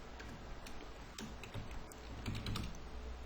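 Quick clicks of typing on a computer keyboard, a light, irregular tapping of keys heard close and fairly quiet, with no voices.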